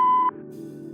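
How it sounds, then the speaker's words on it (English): A voicemail beep in Kathy Rain 2: one steady electronic tone lasting about a quarter second, then it cuts off into a low hum. "Please leave a message after the beep."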